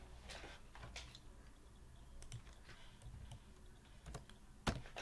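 Quiet computer keyboard typing in a design session, scattered light key clicks in short clusters, close but faint over a low background hiss.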